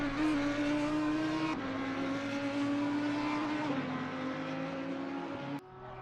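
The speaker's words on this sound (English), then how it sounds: "So Ferrari leading the way from an Audi and the Lamborghini." GT race cars, a Ferrari, an Audi and a Lamborghini, circulate at the Zolder circuit with a steady, fairly distant engine drone that steps down in pitch at each gear change.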